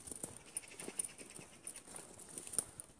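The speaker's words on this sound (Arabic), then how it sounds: "يمشوا الكلاب بتاعتهم" A dog is walked along a street in Tirana, Albania, on a weekend, its light panting and pattering steps heard close against ambient street noise.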